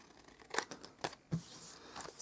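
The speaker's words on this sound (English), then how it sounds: "Just miter it in and give it a little trim." Paper being trimmed with scissors while crafting a mitered Valentine's box, heard as a few quiet, close snips and crisp paper rustles spread over a couple of seconds.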